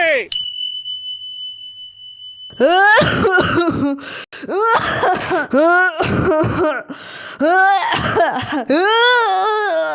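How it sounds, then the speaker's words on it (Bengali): Harsh throat clearing and repeated coughing after smoking a bidi, in loud strained bursts with moaning, near and dominant, after a brief steady tone at the start. "বেটা তোমার কি হলো? তুমি কাশছো কেন বেটা?"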